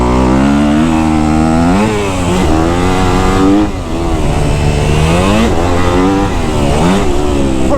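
Kawasaki KX250F dirt bike engine running loud and close, its pitch rising and falling in repeated rev swells as the bike is ridden, with a brief dip in loudness near the middle.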